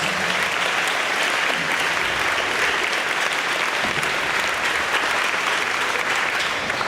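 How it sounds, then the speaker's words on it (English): Sustained crowd applause for coaches at a tennis and track state sendoff, an even, continuous wash of many hands clapping with no pauses. "So let's give our coaches a round of applause."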